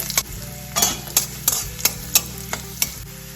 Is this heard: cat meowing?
no